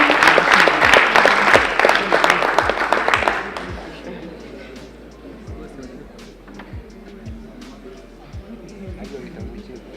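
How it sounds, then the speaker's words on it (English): A crowd claps loudly for competing teams at a university challenge awards ceremony for a few seconds, then the applause thins out to scattered claps and quiet room noise. "Hand of applause to the teams once again."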